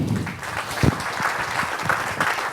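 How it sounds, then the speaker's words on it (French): Audience applause at the closing session of a business conference, a continuous dense clapping from a large room that holds steady at moderate loudness throughout. "messieurs, je vous propose de les applaudir."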